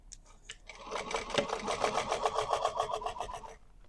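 A sewing machine stitches a seam on a fabric bag, starting with a few slow needle strokes, then running at a steady fast rhythmic whir for a couple of seconds before stopping, close and clear without talk.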